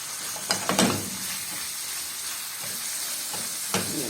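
Minced meat frying in a pan, a constant close hiss of sizzling with a few brief scraping stirs and clatters breaking through.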